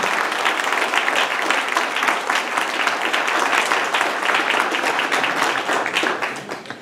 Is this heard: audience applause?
yes